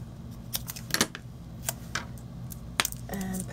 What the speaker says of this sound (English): I'm going to flip that over and cut a piece of foam tape.